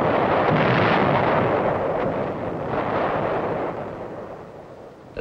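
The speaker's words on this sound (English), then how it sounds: "The sound of shells going over can be a mighty friendly sound." Artillery barrage from the Korean War in 1951, with white phosphorus shells and offshore naval gunfire: a dense, continuous rumbling roar of distant blasts that stays loud throughout, then eases slightly toward the end.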